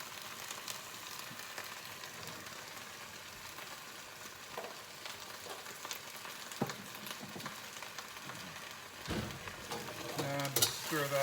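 Garlic powder being stirred into a sizzling frying pan, steady crackling fry with scraping utensil strokes against the pan, loud and close, a voice briefly near the end.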